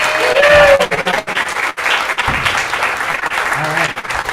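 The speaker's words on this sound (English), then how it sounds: "So just a quick round of applause for B&A for being such an awesome host." An open mic crowd at a café venue gives a quick round of applause, dense clapping that swells and dips, with a few voices and low thumps mixed in.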